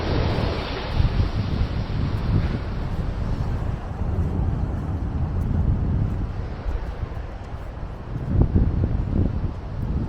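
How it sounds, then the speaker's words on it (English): Sea waves crash against rocky outcrops along False Bay at Muizenberg, Cape Town, a steady broadband wash with surges and heavy wind buffeting the microphone, no voices. "To our right, the sea stretches as far as the eye can see, with waves crashing against rocky outcrops."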